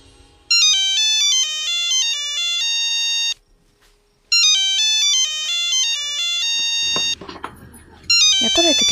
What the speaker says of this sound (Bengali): এত রাতে কেডা ফোন?